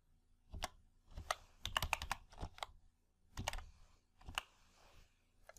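Someone types into a function search box in Microsoft Excel on a computer keyboard, with close, crisp keystrokes in irregular bursts and short pauses. No voices.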